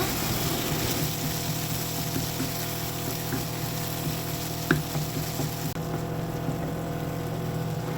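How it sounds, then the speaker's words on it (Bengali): Spices sautéing in a pan for a koi fish curry, a soft, even frying hiss over a low steady hum, with one brief clink midway and no talking. "এখন আমি মশলাগুলোকে ভালোভাবে কষে নেব"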